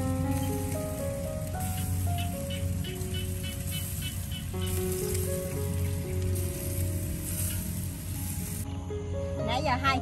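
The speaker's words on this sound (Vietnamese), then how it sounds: "Cái mỡ của con gà nó nhiễu xuống nó luôn nghe xèo xèo luôn" Chicken fat dripping onto hot coals in a clay-pot roaster set in an open field, giving a steady crackling sizzle, with people talking over it and a melodic tone running underneath.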